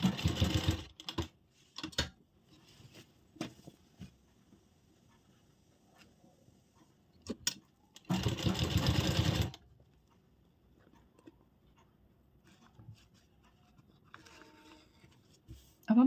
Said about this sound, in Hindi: प्रॉपर उसी शेप में हम इस पर सिलाई लगाएंगे।